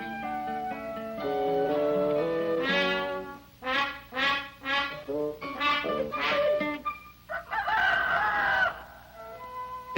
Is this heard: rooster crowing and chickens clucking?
yes